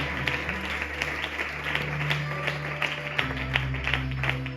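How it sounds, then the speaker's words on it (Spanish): A church congregation applauds during an evangelical service in central Barcelona: steady, dense clapping fills the room over sustained low musical tones, with no voices standing out. "Le damos un fuerte aplauso al Señor"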